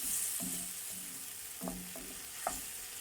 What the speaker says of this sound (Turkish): Suyunu çekene kadar bir güzel pişireceğim kıymamı.